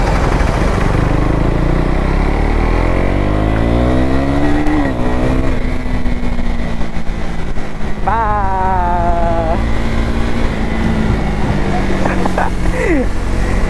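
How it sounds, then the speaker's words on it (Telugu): A motorcycle fitted with an Akrapovic exhaust accelerates hard at night, its revs climbing and snapping through quick-shifter gear changes in rapid rising sweeps, loud and close, with a voice talking over the engine. "క్విక్ షిఫ్టర్స్ సౌండ్ వల్ల గట్టిగా వస్తుంది."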